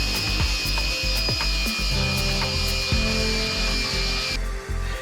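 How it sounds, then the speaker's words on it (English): An angle grinder works down welded car panels during engine bay shaving and chassis prep on a Honda S2000, giving a loud, steady high whine with rattling, ratcheting clatter before the tone drops near the end. "we're going to go ahead and start grinding them down with the angle grinder"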